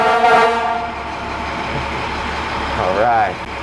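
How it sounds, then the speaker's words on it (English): A fire truck's loud horn blares in bursts, a harsh buzzing blast near the start and another short wavering blast near the end, with a steady rumble of traffic between. "we have to have those loud horns and loud sirens so people know when we're driving down the road"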